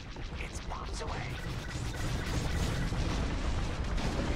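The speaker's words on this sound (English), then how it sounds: "It's bombs away." Bomb blasts from a Y-wing bombing run in Star Wars: Squadrons, a dense, continuous rumble of low booms and crackling debris with game noise layered on top, fairly quiet and sustained throughout.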